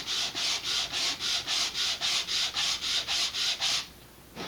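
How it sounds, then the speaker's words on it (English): Rhythmic back-and-forth sanding of a wooden fin on an Estes Doorknob model rocket, about a dozen even strokes in quick succession, close and clear, then stopping. "don't sand that too hard"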